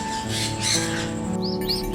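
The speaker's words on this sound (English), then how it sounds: "P-A-R-R-O-T-S, parrots." A parrot call from a children's bird-sound lesson, heard alone as a steady noisy squawking texture ending in two rising whistled chirps.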